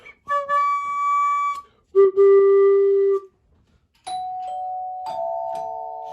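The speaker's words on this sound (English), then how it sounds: "And doorbells, because they are marvelous and magnificent doorbells" Several marvelous doorbells at House on the Rock ring in turn, clear sustained chime tones and ding-dong notes sounding one after another, close and fairly loud with no talking.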